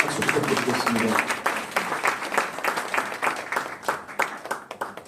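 Applause from the audience at an award ceremony for a missionary award, with clapping that thins out into separate claps while voices murmur underneath.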